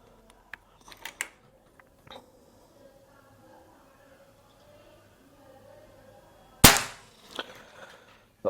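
A single sharp, loud PCP air rifle shot cracks out after a stretch of quiet with faint clicks of handling, followed by a short mechanical rattle.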